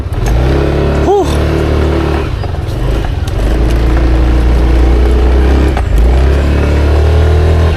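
Motorcycle engine running loud and steady, with a rev near the start and a low rumbling drone that holds throughout, one rider's bike that seems reluctant to move forward.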